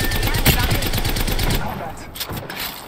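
Rapid automatic gunfire rattles close and loud in a shooter game, a steady burst that cuts off and gives way to a few scattered shots, with a voice talking over it.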